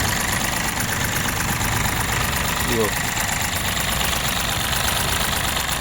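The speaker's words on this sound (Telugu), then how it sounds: "మీకు ఇంజన్ కూడా స్మూత్ ఉంది" A Mahindra diesel engine idles at a steady, even rumble throughout, with a brief spoken word near the middle.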